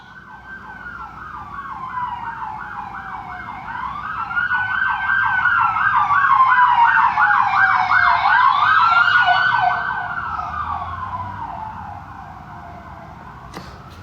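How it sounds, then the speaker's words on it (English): An air ambulance siren wails in a rising and falling pattern, growing louder to a peak and then fading as it passes at a distance. "that is air ambulance. You know, the ambulance don't only just run on the ground, they also run in the air."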